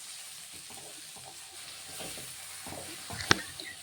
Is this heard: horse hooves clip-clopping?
no